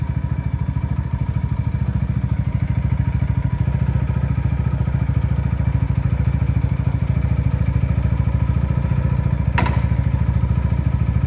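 A 2024 Venom X22R Max 250cc fuel-injected street motorcycle idles with a steady, close, rapid engine putter, loud and even throughout, with a single brief click near the end.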